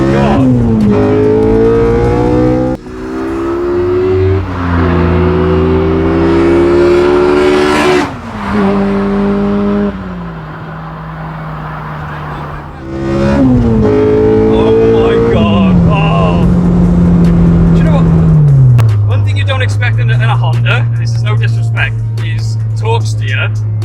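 A Honda Civic Type R EK9 with a naturally aspirated VTEC engine at full throttle in second gear, its loud rising howl climbing steeply through the revs, dipping briefly at shifts and screaming high before settling, heard from inside the car with voices at times.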